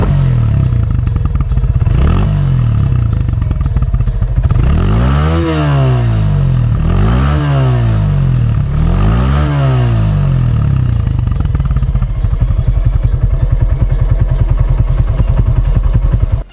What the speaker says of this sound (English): here is what this bike sounds like.